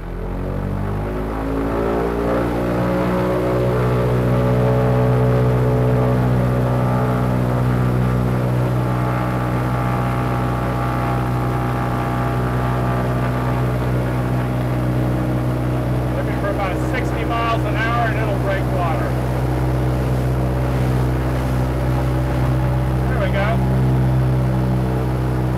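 A Sikorsky S-39 seaplane's engine drones loud and steady through a takeoff run on water, a constant deep radial hum with a rising whine, while someone speaks over the noise.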